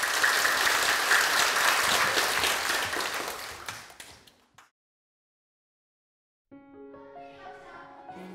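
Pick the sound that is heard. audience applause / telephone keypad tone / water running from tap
audience applause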